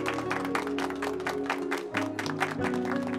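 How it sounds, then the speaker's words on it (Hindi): Full audience applause welcoming a guest on a studio chat show, dense clapping over a sustained musical backing that shifts pitch partway through. "तो चले फिर भरपूर तालियों में इस्तकबाल करते हैं आपका"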